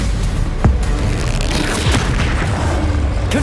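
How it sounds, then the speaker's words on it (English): Stupefy spell impact in Hogwarts Legacy: a dense, loud booming burst with low rumble that holds steady through the short moment, a few sharp pops rising over the wash. "Stupefy!"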